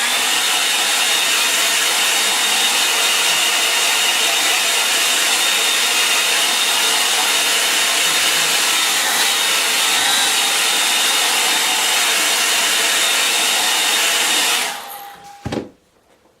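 A hair dryer drying a watercolour painting runs loud and steady for about fourteen seconds, up close with a constant whooshing hum, then switches off and winds down briefly, with no talking.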